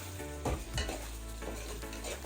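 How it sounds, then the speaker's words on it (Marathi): Prawns fry and are stirred in a pan for a prawn and pea pulao with ginger and chilli, a steady soft sizzle broken by a few scraping clinks of a spoon against the pan, with no talking. "आता इथे बघा कशी कोळंबी पण छान फ्राय झाली आहे आतमध्ये"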